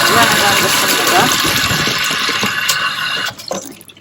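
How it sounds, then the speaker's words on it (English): A whisk is rinsed under a running kitchen tap, giving a steady loud gush of water that runs nearly continuously before thinning and sputtering at the end. "I'm going to take the whisk out of here. Just run it under some water."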